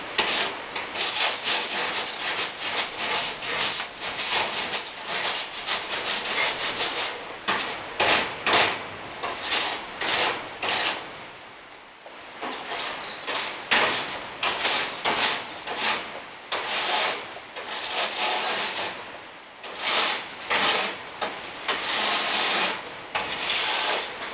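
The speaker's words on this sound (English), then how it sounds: "you want to brush down the bottoms and the inside the top" A brush scrubs a rabbit cage in rapid repeated back-and-forth strokes, a close, loud, raspy scraping with short pauses between bursts.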